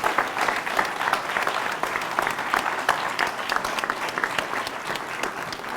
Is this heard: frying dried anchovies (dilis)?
no